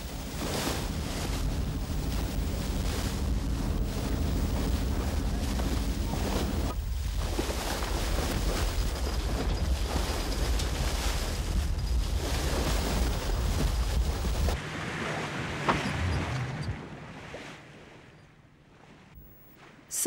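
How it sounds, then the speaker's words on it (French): Steady wind rushes over a calm open sea aboard the Aquarius, a cruising boat off the Seychelles, with a constant low roar of air and water that thins and fades toward the end. "le vent souffle et la mer est calme"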